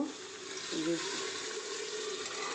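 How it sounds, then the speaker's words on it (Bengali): Water is poured into a pot of chana dal cooking with beef, a soft close splash and gurgle of liquid over a faint background hiss. "এখন পানি দিয়ে দেব।"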